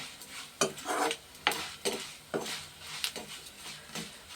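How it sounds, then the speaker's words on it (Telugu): Urad dal being stirred and dry-roasted in a pan, with repeated scraping strokes at an uneven rhythm and a faint sizzle underneath, close and fairly quiet. "కొంచెం దోరగా ఎగాలి పప్పు, మాడిపోకూడదు."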